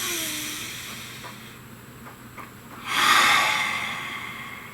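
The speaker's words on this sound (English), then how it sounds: "take a nice deep breath" One deep breath in through the nose, then a long audible exhale that rises and tails off, close and fairly clear over a quiet room, with no one speaking.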